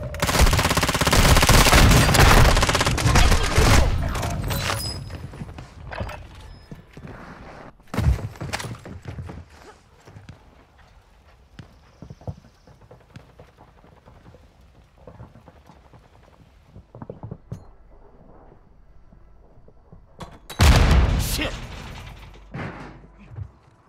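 Gunfire in Call of Duty Warzone: a loud dense burst of rapid automatic fire at the start, scattered sharp shots and crackles through the middle, then another heavy burst near the end.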